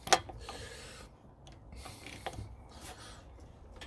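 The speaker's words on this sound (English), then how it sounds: "That's a 23mm. On with a socket." A socket wrench works a 23mm nut on the brake of an old 750kg trailer, producing faint close ratcheting and metallic mechanical clicks over a low rustling background, with no talk.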